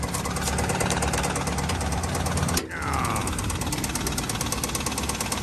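A Nissan diesel engine runs steadily at idle with a rough, rapid knocking clatter, heard up close under the hood with a brief dip midway.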